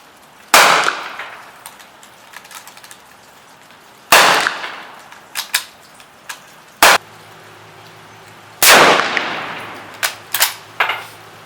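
A Swedish Mauser M96 rifle fires 131 grain rounds outdoors in wind and rain, sending out three loud, sharp shots spaced seconds apart. Smaller clanks and metallic clicks follow between them.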